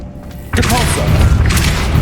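The Depulso force spell in Hogwarts Legacy, a sudden loud whooshing blast followed by a swelling rush of impact and debris, with a voice briefly audible underneath.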